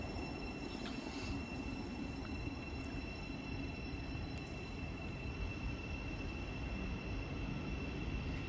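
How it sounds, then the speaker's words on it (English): A Thameslink passenger train runs through a mainline station, a faint, steady rumble of wheels on rail with thin high whines, heard from a distance on the platform without voices. "there goes the Thameslink service going to Horsham via Central London"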